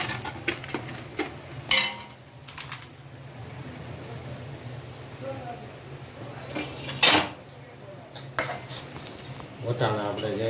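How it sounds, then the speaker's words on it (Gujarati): A spoon stirs a boiled green peas mixture in a pan while bread pakora filling is being made. Steady scraping and clinking of metal on the pan runs throughout, with a few sharper knocks, under faint talk. "આપણે સરસ રીતે હલાવી નાખીશું, મિક્સિંગ કરી નાખીશું."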